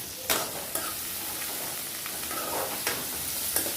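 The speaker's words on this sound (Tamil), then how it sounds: "இதெல்லாம் நம்ம வதக்கிடுவோம்" Steady sizzling of onions, curry leaves and coriander sautéing in a hot pan, a continuous bright hiss with occasional scrapes and stirs of a utensil, close by.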